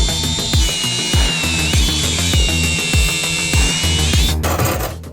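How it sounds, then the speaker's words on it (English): A cutoff wheel slices through rusted floor metal on a Ford Econoline van, a steady close grinding whine pulsing in a regular rhythm and easing off at the very end, with no talking. "Just follow that line with a cutoff wheel."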